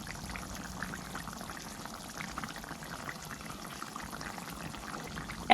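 Kacha kola kofta curry simmering in a pot, a faint bubbling and gentle liquid burble throughout, with a spoonful of ghee going in and a brief louder knock at the very end.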